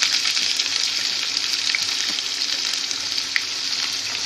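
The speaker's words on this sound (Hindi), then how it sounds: "प्याज को हम 1 से 2 बार इस तरह से चला लेते हैं" Onion sizzling steadily in a pan alongside potatoes for an aloo tamatar sabzi, a continuous bright frying crackle with a couple of soft stirring scrapes, close and without talk.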